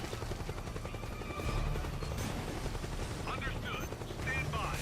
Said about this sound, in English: Ah, the chopper.